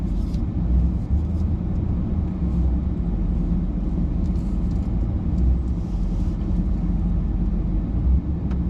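Truck pulling a trailer drives along a narrow dirt road while out collecting firewood, heard from inside as a loud, steady low engine and road rumble with occasional light rattles and bumps.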